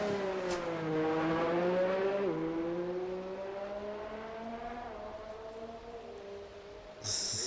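Racing cars, two Mercedes and a Ferrari, heading out onto the track, with engine tones rising and shifting through gears as they pull away, a steady moderate drone that fades slightly before a brief louder burst at the end.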